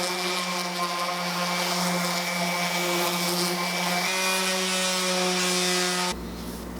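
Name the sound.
router rounding over maple table edges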